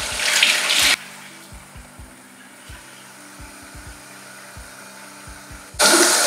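A tap runs loudly at the start and end while a face mask is washed off with a cloth; between the bursts, quieter wiping and dabbing with soft low thumps fill the gap.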